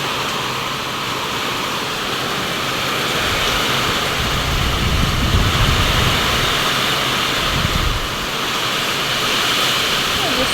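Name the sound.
strong wind during typhoon Ramil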